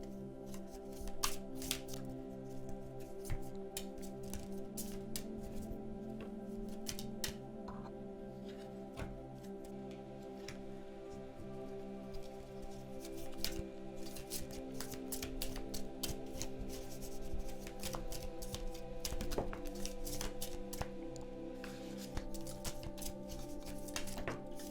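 Continuous rustling and riffling of cards being shuffled, steady and close, with repeated soft slaps and flutters throughout and no talking.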